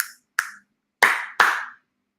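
Up close and alone: two short, crisp clicks, then after a brief pause two fuller, louder claps with a slight ringing tail, each sound cleanly separated by silence.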